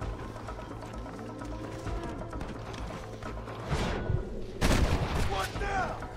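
Gunshots in the Red Dead Redemption western video game, a few sharp shots over ambient game noise, with louder close cracks near the end and faint speech in the background.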